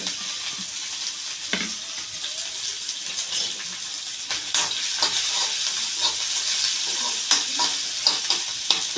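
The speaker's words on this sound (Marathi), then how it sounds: "5-10 मिनिटं आपण थोडंसं तेलामध्ये फ्राय करून घ्यायचं आहे." Chopped onion, green chili and curry leaves frying in hot oil in a pan, a continuous close sizzle with repeated scraping stirs that grow busier toward the end.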